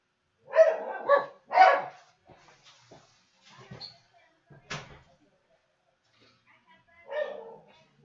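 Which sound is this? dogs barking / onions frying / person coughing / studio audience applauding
dogs barking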